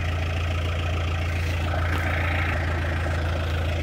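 A heavy tractor engine idles steadily nearby with a low, even rumble and faint knocking, no voices.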